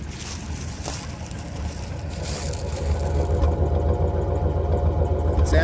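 A Chevrolet Caprice engine runs at a steady idle after its carburetor has been primed, a low throbbing rumble with a slight misfire, growing a little louder toward the end.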